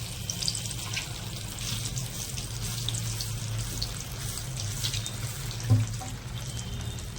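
Veg lollipops coated in idli batter fry in hot oil, giving a steady, close, bubbling hiss that runs unbroken with one brief louder knock near the end.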